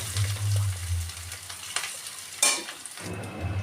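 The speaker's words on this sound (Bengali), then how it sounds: "আদাটা একটু ভালো করে ভেজে নেব।" Ginger frying in a pan for a Bengali moong dal with fish head: a continuous sizzle with a low bubbling hum at the start, occasional clinks of a utensil and one sharp scrape partway through.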